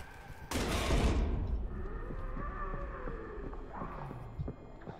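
A sudden loud volley of gunshots in Amnesia: The Bunker, echoing in a tunnel, followed by a lingering tonal ringing and quieter scraping movement.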